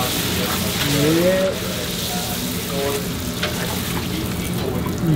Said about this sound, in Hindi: पराठा बन रहा है, पूरी पराठा